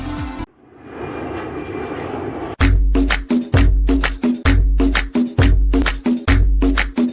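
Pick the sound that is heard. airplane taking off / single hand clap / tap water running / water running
airplane taking off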